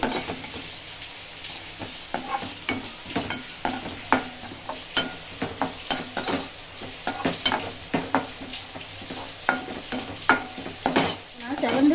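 Jaggery syrup bubbles and hisses in a pan close by, with frequent spoon clicks and scrapes as it is stirred, fairly quiet overall.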